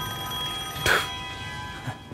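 A phone rings while Nico is being called in the Devil May Cry 5 video game, a steady electronic ringtone with a louder burst partway through, heard clearly with no talking.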